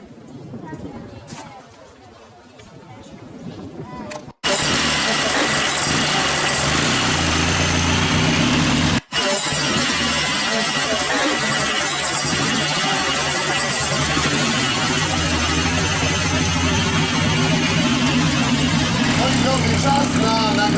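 A Bugatti engine runs loud and close at a classic car show in Wrocław, a dense steady roar filling the scene after a few seconds of quieter crowd and announcer talk, with one brief dropout midway.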